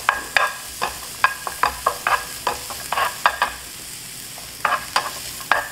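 Garlic sautéing over low heat in a pan for beef stew, a gentle sizzle punctuated by frequent sharp spatula taps and scrapes, close and fairly loud, no voices.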